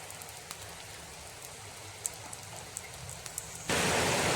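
Prepared pieces hit a pan of hot oil on the stove, giving a faint crackle with scattered pops that bursts into a loud, steady sizzle near the end.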